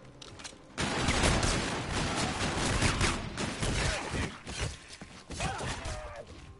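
Rapid bursts of gunfire from shooting enemies in a round-based video game, a dense fusillade that starts abruptly and continues steadily throughout, close and loud with a few brief calls over the shots.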